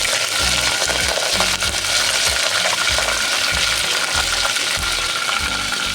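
Green chilli, shallots, curry leaves and spices sautéing in hot oil, a loud, dense sizzle held throughout with a rhythmic low thump and scrape of stirring.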